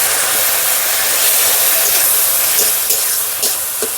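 Steady broadband sizzling and hissing as water hits a hot pan of chopped tomato, loud and close throughout with faint crackles near the end.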